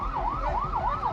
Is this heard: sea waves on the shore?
no